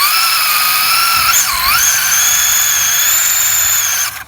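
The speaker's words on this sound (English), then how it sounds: "time for a burnout" A Traxxas Slash 2wd RC drag car with a 1969 Chevy Nova SS body does a burnout. A loud, steady, high-pitched electric motor whine briefly dips in pitch, then holds before cutting off.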